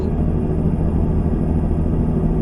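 A steady, deep Cummins N14 diesel engine rumble from a Kenworth T600 in American Truck Simulator drones continuously at an even level, low and heavy with no breaks or speech.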